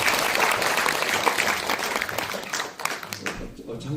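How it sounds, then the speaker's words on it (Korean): A lecture hall audience bursts into dense, sustained applause, loud and steady before tapering off toward the end. "박수로 모시겠습니다."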